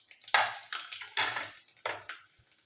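Five-spice seeds tipped into hot mustard oil in a wok, giving a few bursts of crackling sizzle that swell and fade at irregular moments, close and fairly quiet, with no one speaking.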